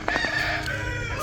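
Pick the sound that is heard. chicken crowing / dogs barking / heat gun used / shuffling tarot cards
chicken crowing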